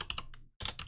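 Quick bursts of keystrokes on a computer keyboard while coding a Python Discord bot, a few clustered clicks, a brief pause, then another rapid flurry, close and clear.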